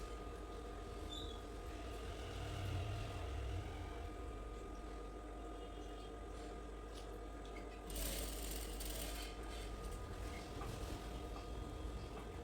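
Sewing machine stitching lining onto a georgette kurti, a steady continuous motor whir with rapid needle rattle held at an even pace throughout, fairly close and alone.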